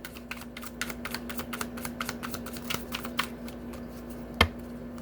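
A tarot deck is shuffled by hand at close range, a quick run of light papery riffles and taps ending in a sharper card snap.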